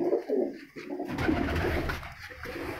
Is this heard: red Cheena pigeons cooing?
yes